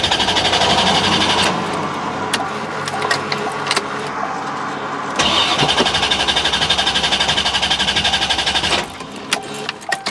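A neglected Corvette C4 barn find turns over and catches after 30 years, starting rough and loud, stumbling into an uneven idle, then cranking and firing again after a brief drop.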